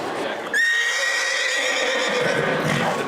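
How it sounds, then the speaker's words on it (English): A black-and-white Appaloosa horse lets out a loud, close whinny that starts abruptly and trails off over a few seconds. "So this is an Appaloosa horse."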